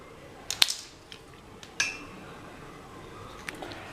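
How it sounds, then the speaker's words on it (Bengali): A spoon mixes salt into a mixture in a kitchen bowl, making a few sparse, bright clinks against the bowl with quiet pauses between them, close by and alone. "ঠিক আছে, এর মধ্যে লবণটা মিশিয়ে দেবো।"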